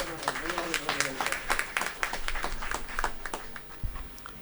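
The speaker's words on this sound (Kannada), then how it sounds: "ದೊಡ್ಡ ಚಪ್ಪಾಳೆ." An audience at a Kannada book and song album launch bursts into applause, a dense patter of clapping that runs the whole time under a speaking voice.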